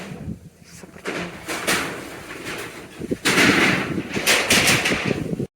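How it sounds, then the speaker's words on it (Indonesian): Loud construction banging comes from asbestos sheets being installed while the area around the Gondosuli temple is decorated for a haul event. The irregular metallic clatters and knocks are close by, grow busier in the second half and sound over a faint background. "maaf berisik karena sedang pemasangan asbes ya"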